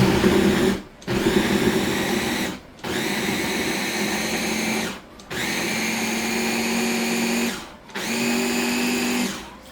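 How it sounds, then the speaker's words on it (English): A kitchen blender purees cassava root with milk in five loud, close bursts of high whirring, each run cut off by a short pause. "I take my blender and put that in."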